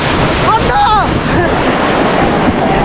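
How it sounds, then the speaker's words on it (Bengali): Sea waves roll in on the beach at Digha in a loud, continuous roar of surf, with wind buffeting the microphone. "কি ঢেউ আসছে দেখো,"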